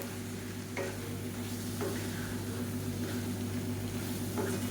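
Ingredients for a South Indian lunch dish fried on high flame, a steady loud sizzle with a constant hum beneath and a few sharp spatula scrapes spaced about a second apart, without voices.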